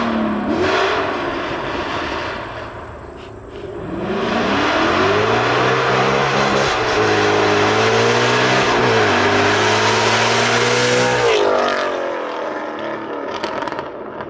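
A 2013 Ford Mustang GT with a loud Corsa Sport exhaust revs hard, climbing and falling through several long throttle sweeps, close and very loud with no talking.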